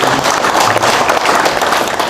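An audience at an Indonesian gathering gives a dense, steady round of applause for Kahmi Jaya, many hands clapping loudly and close throughout.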